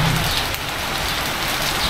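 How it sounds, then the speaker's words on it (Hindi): Heavy rain pours steadily at night at an American Bully dog kennel, a dense, continuous roar of rainfall close by with no voices. "दोबारा फुल स्पीड में बारिश शुरू हो चुकी है"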